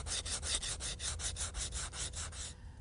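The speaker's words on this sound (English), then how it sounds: "we'll use 320 grit wet dry sandpaper" 320 grit wet-dry sandpaper rubs a styrofoam dragster blank in quick, steady back-and-forth strokes, about a dozen rhythmic scratchy swipes close to the microphone, stopping just before the end.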